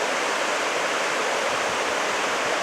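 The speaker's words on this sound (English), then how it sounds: "There's more of the creek down there." Steady broadband rush of a creek flowing through a mountain valley near Owyhigh Lakes on Mt Rainier, a continuous even wash of water with no voices over it.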